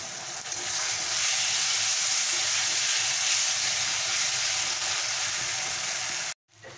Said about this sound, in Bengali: পারলে এখানে আমি অল্প পরিমাণ একটু জল মিক্সড করে মশলাটা কষে নেব।